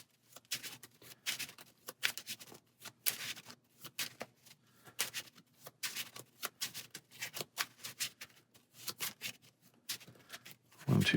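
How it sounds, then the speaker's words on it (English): Marvel Champions playing cards being shuffled at a table, a long series of quiet, rapid riffling bursts and soft taps in uneven rhythm, close and without talk. "Which gets us an counter card and shuffle."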